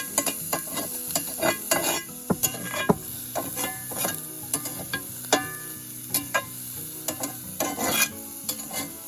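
Green pepper and onion sizzle in a pan over a campfire while a utensil scrapes and clacks against the metal in a steady, irregular rhythm, close and clear, with no talking.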